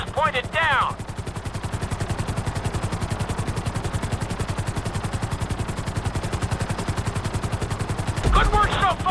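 A helicopter in GTA 5's flight school drones with fast, even rotor chop throughout, loud and steady, while voices speak briefly at the start and end.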